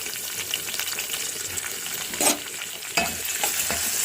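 Onions with curry leaves fry in oil as tomatoes go in, a steady close sizzle broken by two louder bursts where the ingredients are stirred or added, with no talking.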